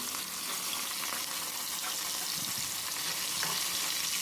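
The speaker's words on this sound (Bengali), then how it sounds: "মাছের পিসগুলো আমি তেলের মধ্যে দিয়ে দিলাম" Pieces of katla fish frying in hot oil give a steady, dense sizzle and crackle that stays close and even throughout, with no talking.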